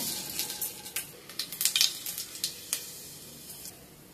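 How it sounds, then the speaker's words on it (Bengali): A pinch of asafoetida and black mustard seeds sizzle in hot mustard oil, a quiet crackle with rapid seed pops and a few light utensil taps, popping thinning out toward the end. "তেলটা গরম হয়ে গেছে, এর মধ্যে এবার ফোড়ন দেব"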